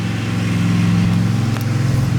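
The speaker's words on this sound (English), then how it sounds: "my little sister's on the tractor." A small tractor drives around a yard, giving a close, steady engine drone with a low, even rumble throughout.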